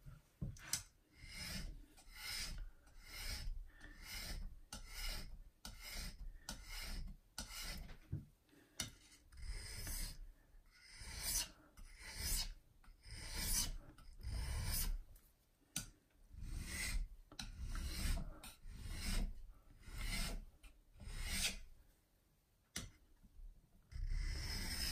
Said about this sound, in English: if I tip the stone, I get a line of steel every sharpening stroke